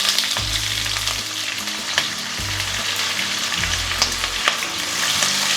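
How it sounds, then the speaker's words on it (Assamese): Onions fry with bay leaves and dried chillies in a pan for an Assamese mutton curry, a loud, steady sizzle broken by repeated low scraping as the pan is stirred. "আৰু এখিনি মই এতিয়া ধুনিয়াকে ভাজিম"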